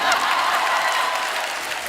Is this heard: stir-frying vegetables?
no